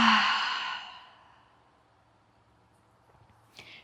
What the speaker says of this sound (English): Taking a big inhale and a long exhale out the mouth.